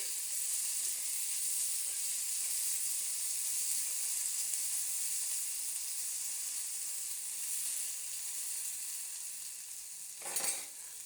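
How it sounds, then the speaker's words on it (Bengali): Potatoes frying in oil, a steady hissing sizzle filling the whole stretch, close and even, with a brief scrape of stirring near the end. "আলুগুলো একটু নাড়াচাড়া দিয়ে নেই"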